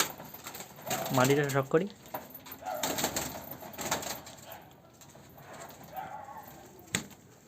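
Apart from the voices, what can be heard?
pigeons cooing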